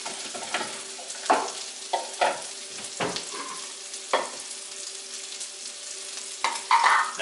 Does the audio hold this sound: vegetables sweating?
yes